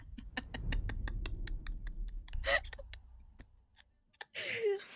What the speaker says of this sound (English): I can hear how violently you're clicking it.